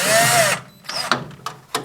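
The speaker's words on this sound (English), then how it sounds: "I've got to undo all these little screws that hold the top on." A power drill spins out small screws holding the top on a fridge, a loud, close whirring burst followed by a few short, sharp pulses of the motor.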